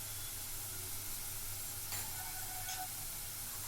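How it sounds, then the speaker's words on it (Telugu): Onions for a bean curry fry in a pan with a soft, even sizzle, quiet and continuous, broken by a couple of brief stirring scrapes. "ఉల్లిపాయలు ఈ రంగు వచ్చే వరకు వేయించి తగినంత ఉప్పు వేయాలి"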